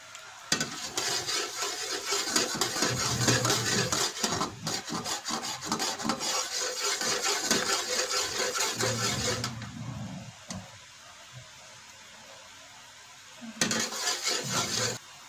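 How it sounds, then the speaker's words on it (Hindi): Steady scraping and stirring of sugar syrup in a cooking pot, loud and continuous for about nine seconds, then a quiet pause before the stirring picks up again briefly. "इसको मुसलसल हिलाते जाना है"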